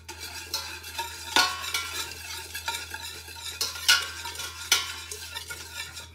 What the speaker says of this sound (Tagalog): hahaluin natin ng maigi